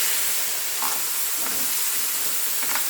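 Ground tomato paste hits hot oil with whole spices for a paneer masala curry, producing a strong, steady, hissing sizzle up close with faint stirring scrapes and no voices.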